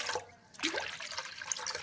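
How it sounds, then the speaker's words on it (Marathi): Water splashes and gurgles as it is poured into a pot of yogurt curry mixture, close up, after a brief lull. "अजून थोडंसं पाणी"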